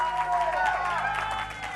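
Church congregation applauding during a healing service, a dense continuous wash of many hands clapping at moderate loudness with a faint murmur of voices and cheers beneath.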